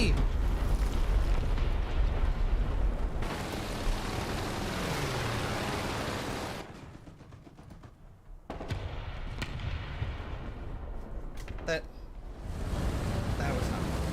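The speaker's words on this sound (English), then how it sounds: "Oh, that's a big bomb!" A big bomb explodes in the War Thunder game, a heavy booming rumble with roaring debris that swells and fades, broken by quieter gaps and sharp cracks of gunfire.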